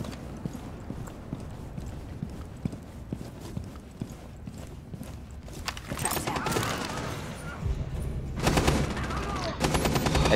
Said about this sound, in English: She's shooting at it.